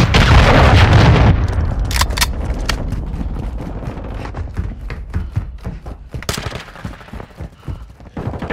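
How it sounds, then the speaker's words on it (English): Cruise missile strike in Call of Duty: Modern Warfare II, opening with a heavy booming blast and rumble, then a scattered sequence of sharp gunshots and thuds fading in the aftermath. "Hostile cruise missile incoming"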